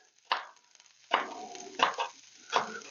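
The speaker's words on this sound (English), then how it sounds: "we're going to take these green onions and just cut them up" A knife chops green onions on a cutting board in four distinct, close, crisp strokes spaced unevenly apart, with no talking.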